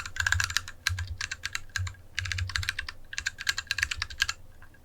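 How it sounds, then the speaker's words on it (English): Fast typing on a keyboard with unlubed switches and no pad underneath, close and loud, each burst of clacky keystrokes carrying a hollow, booming low thud, with short pauses between runs. "This is the keyboard unlubed. And without any pad under it, that's why it sounds a bit boom boom boom"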